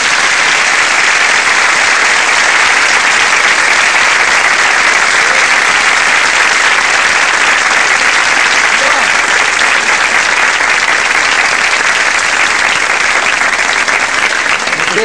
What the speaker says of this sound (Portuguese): Uma salva de palmas aqui.